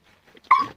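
Fifteen-day-old nursing puppies give a short, high whimpering yelp after a few faint soft sounds, close by and alone.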